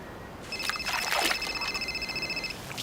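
A phone rings once with a bright electronic trill lasting about two seconds in a quiet room, cutting off cleanly, with no talking over it.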